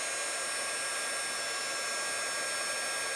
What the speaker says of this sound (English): I'm just going to heat emboss this. I've got my embossing tool just to the side of me.